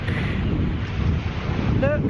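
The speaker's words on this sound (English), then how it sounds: "I've got my wind muff on, but it still might be a little bit windy" Heavy wind at St Ives buffets a microphone fitted with a wind muff, a constant low rumble, and a brief faint chirp rises near the end.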